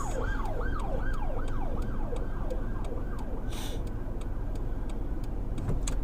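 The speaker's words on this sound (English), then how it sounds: "Just wait out the ambulance." An ambulance siren wails outdoors in a rising-and-falling yelp over steady traffic rumble, fairly distant and fading, with a few faint ticking sounds and no clear speech.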